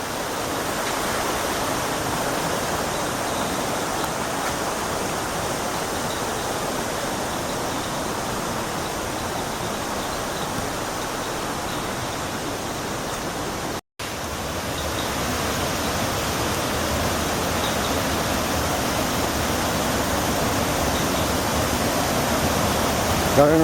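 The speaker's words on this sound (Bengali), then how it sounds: "ঝর্ণার জল বয়ে চলেছে।" Water from a waterfall streams past a walking path near Cherrapunji in Meghalaya, a constant broadband rush that holds steady throughout, briefly cutting out once midway.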